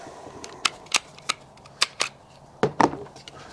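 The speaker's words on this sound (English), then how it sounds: "Let's take this gun apart real quick." Sharp metallic clicks and snaps come from a Canik Mete MC9LS 9mm pistol as it is taken apart, roughly ten distinct close-up clacks at irregular intervals with brief pauses between them.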